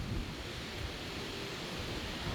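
Rough, storm-season sea with surf churning steadily, a dense, continuous roar of waves and wind noise filling the whole stretch, loud and close with no breaks.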